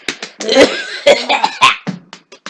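A person coughs loudly and close by in several short, sharp bursts.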